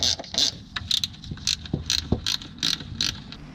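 Ratchet wrench loosening the transmission mounts on a Mazda Miata, a series of short, rapid clicking bursts close to the microphone, repeated in quick rhythm with a faint low rumble underneath.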